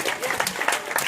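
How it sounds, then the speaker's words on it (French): Dense audience applause after a stage hypnosis show in Ibiza, a steady wash of many hands clapping close and loud. "On peut tous les applaudir très fort."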